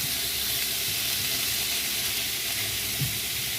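Pork pieces frying in a pan for Bicol Express, their fat rendering out with a dense, even, close sizzle that holds steady throughout, with a faint bubbling pop near the end and no talk.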